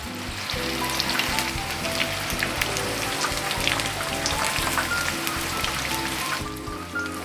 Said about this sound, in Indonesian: Sambil saya bolak-balik ya tahunya. Ini digoreng sampai matang,